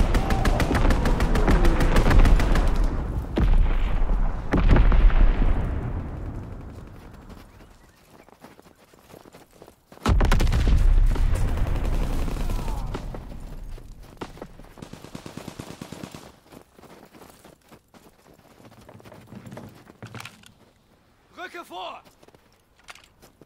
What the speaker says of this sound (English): Strafing